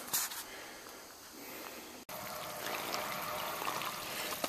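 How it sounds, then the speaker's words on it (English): Water gushes and splashes steadily out of a pool filter's backwash drain, a continuous broadband rush that grows slightly louder after a brief break. "And it starts letting water out."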